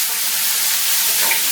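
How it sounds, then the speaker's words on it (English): Rice and beef frying for a burrito in a cafe kitchen in Namche Bazaar, a dense, loud, steady sizzle with no voices. "we have some rice frying up for the burrito over here, as well as the beef"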